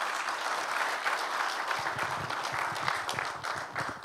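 A congregation at a church dedication and founding service claps to welcome a lawmaker to the stage. Steady, dense applause continues throughout, with soft low thumps joining partway in.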